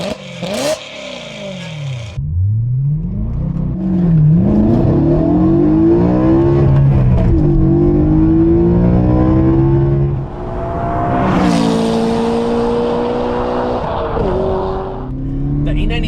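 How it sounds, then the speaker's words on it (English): A BMW E92 M3 in first gear and M mode pulls hard from low revs, its engine climbing in a rising roar, easing off briefly, then revving up again, loud and close. "Put it in first gear, it's on M mode. Let's give it some gas."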